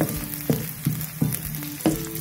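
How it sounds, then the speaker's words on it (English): Onion and chopped garlic fry in hot oil, giving a steady close sizzle broken by several sharp clatters from stirring at uneven intervals, with no talking. "I'll then add my onion to the already heated oil"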